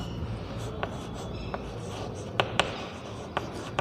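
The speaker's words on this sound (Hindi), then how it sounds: "तो यहाँ पर मैं इसकी रीमर टीमान रिएक्शन लिखता हूँ" A chemical reaction, the Reimer-Tiemann reaction, being written out by hand during a chemistry lesson. Soft continuous scratching is punctuated by several sharp, close taps of the writing tool.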